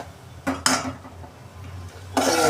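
Ground masala paste being sautéed in oil in a pan for a Surmai fish curry: soft sizzle with scraping stirs and clinks of a spoon against the pan, in short bursts with a louder stretch at the end.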